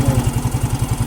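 A Yamaha Fazzio 125i scooter engine runs close by at idle after CVT work, a steady low pulsing putter with even beats and a faint mechanical clatter over about a second.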